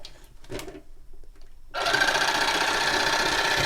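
A small electric NeilMed Hydropulse nasal irrigator pump switches on after a quiet moment with faint clicks, then runs with a steady, loud buzzing drone.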